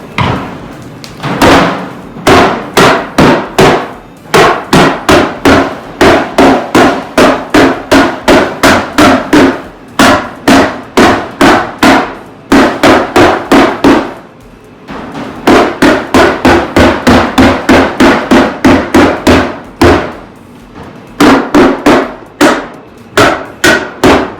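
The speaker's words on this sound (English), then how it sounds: "What we're going to do now is just staple it in place" A staple gun fastens stucco mesh onto a wood subfloor, firing sharp, loud snaps in quick rhythmic bursts of several shots at a time, separated by brief pauses, with no talking.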